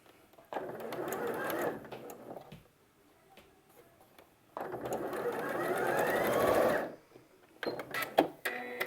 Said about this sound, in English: just keep pushing that one seam over top of the bottom until your points meet at the end